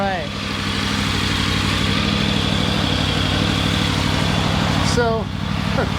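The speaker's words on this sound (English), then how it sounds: "the fan's finally kicked on" A Triumph Tiger 900 Rally Pro idles steadily with its radiator fan running after a coolant flush, a close, continuous engine drone with a fan whir on top and brief voices near the start and end.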